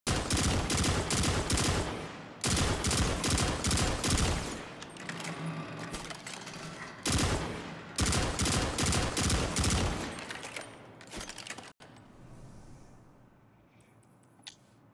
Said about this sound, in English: Full auto battle rifle?